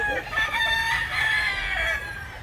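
A flock of roosters bound for Masbate keeps up overlapping crowing and clucking throughout, a dense steady chorus of birds close by with no talking.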